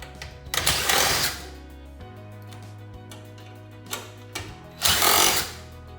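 Power screwdriver backing two screws out of the blower assembly of a Ruud air handler during an attic install, two loud buzzing bursts with a steady low hum running between them.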